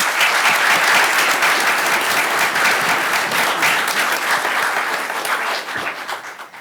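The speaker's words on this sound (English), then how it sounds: "Let's give them a round of applause." A large audience applauds at a school or community highlight event after a call to honor leaders, the clapping dense and sustained, then thinning slightly toward the end.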